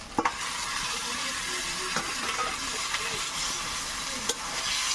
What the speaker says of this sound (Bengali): মাংসটা ঢেলে দেব।